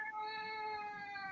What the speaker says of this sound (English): that's my cat yelling because he's confused by daylight savings time ending